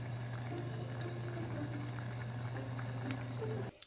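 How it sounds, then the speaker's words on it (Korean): Pot of ramen noodles boiling on the stove, a steady close bubbling and simmering with a low hum underneath, continuous and fairly quiet before cutting off abruptly near the end. "보글보글보글보글 맛 좋은 라면"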